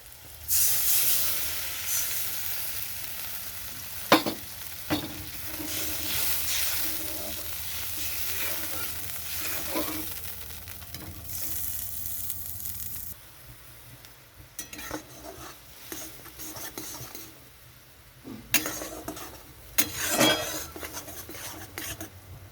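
Milk simmering with eggplant and Kashmiri chilli powder in a pan, a steady bubbling hiss and sizzle with occasional clinks of a utensil against the pan throughout.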